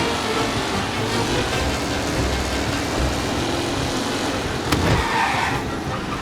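Race cars roaring around a track in the video game Mafia: Definitive Edition, with dense continuous engine noise from several cars close by and a brief sharp knock partway through.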